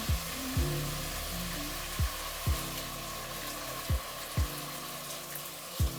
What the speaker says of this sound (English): Now, the tomato puree goes in.